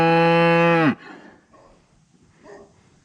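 A single loud, close cow moo lasts about a second, followed by quieter, distant lowing from other cattle.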